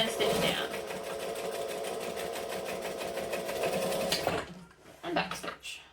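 A sewing machine stitches vinyl with piping in a fast, steady mechanical chatter for several seconds and then stops, followed by a few quieter handling sounds.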